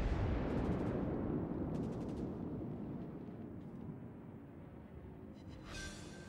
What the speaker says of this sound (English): we get ready to open fire with all 10 guns